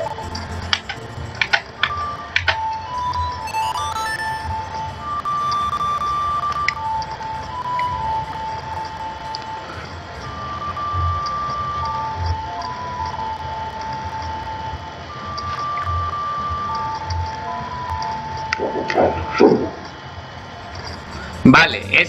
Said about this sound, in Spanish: toca la ocarina así